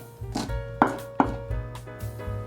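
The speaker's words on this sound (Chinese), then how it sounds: "把敏豆切碎，在切的过程可以感觉到今天买的敏豆好嫩哦" Tender fresh green beans are chopped with a knife on a board, a series of crisp, close thuds at an uneven pace.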